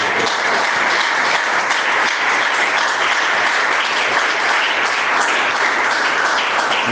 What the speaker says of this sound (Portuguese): Pode adorar a Deus com as palmas